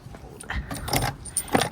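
Old ignition coils from a 2011 Toyota Corolla are handled and set down, making short, close plastic-and-metal clacks and a light jangling rattle, with no talking.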